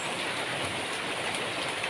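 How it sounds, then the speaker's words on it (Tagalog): Dense, steady hiss of heavy rain pouring down continuously, loud and close, with no voices. "Lakas po na ulan guys."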